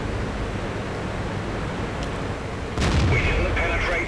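A 17-pounder tank gun fires in World of Tanks: a single sharp, loud blast lands near the end, its boom and crack rising over a steady wash of battle noise that runs from the start.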